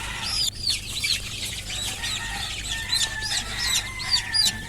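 Young chickens in a poultry shed keep up a busy chorus of cheeping and clucking, many birds at once at moderate distance over a low steady hum, with no one speaking.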